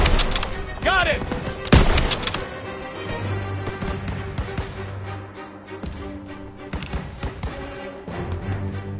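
Call of Duty: WWII battle with sharp, irregular bursts of gunfire, including rapid machine-gun volleys, over a rumbling combat bed. Shouting voices sound among the shots.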